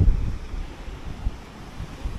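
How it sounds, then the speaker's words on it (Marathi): Strong sea waves surge against the walls of Vijaydurg fort on the coast, a low, continuous rumbling wash mixed with heavy wind buffeting the microphone, with no one speaking. "जोरदार येतात लाटा."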